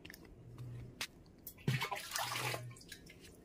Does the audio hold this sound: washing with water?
yes